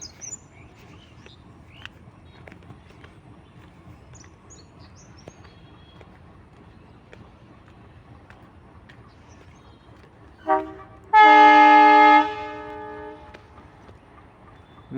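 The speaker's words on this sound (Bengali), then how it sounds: "ফারাক্কা এক্সপ্রেসের লালগুড়া ওই WAP7 লোকোমোটিভটি হকিং করছে।" Horn of a WAP7 electric locomotive hauling the Farakka Express sounds near the end, a loud sustained blast of about a second and a half after a quieter rail-yard backdrop with faint birds.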